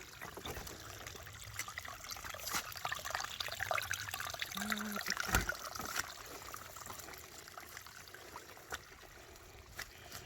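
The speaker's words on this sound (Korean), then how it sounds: "계곡물 우리 농장에 쫄쫄쫄쫄 흐르는 물소리" Mountain stream water trickles softly and steadily across a farm after rain, a faint, continuous outdoor babble with no voices.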